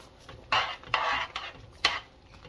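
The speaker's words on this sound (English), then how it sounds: "And we'll give it a good stir now." Rice stirred into a pot of Creole jambalaya: a few scraping, clattering strokes of a spoon against the pot, moderately loud and close, separated by short pauses.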